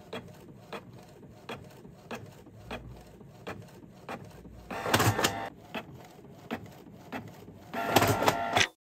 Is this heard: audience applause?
no